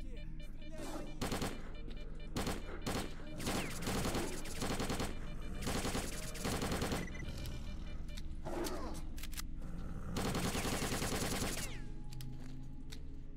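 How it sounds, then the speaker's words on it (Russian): Heavy firearm fire in S.T.A.L.K.E.R. aimed at snorks: rapid automatic bursts and fusillades, close and loud, with short pauses between volleys and occasional voices under the shooting. "Снорки, стреляй по ним!"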